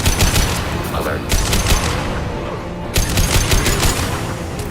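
Enemy gunfire from a firefight in Mass Effect 2, rapid bursts of shots crackling over dense battle noise, loud and continuous with a pause mid-clip before the volleys resume.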